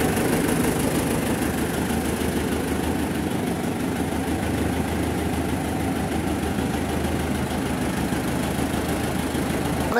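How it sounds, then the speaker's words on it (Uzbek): T40 tractor engine idling, a steady rough mechanical rumble with fast knocking pulses, close and continuous with no change for ten seconds. "T40 traktori."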